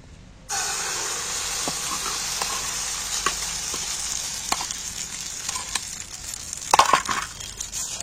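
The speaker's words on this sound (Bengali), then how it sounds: "এবার এই ফাটানো ডিমটা এর মধ্যে দিয়ে দিচ্ছি প্যানের মধ্যে।" An egg hits hot oil and a loud, steady sizzle starts at once, continuing with a few light scrapes and taps.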